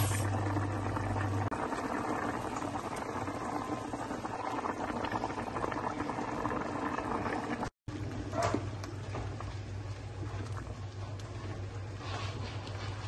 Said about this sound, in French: nous allons le laisser bouillir et laisser l'eau réduire jusqu'à ce que la pâte d'arachide s'apaisisse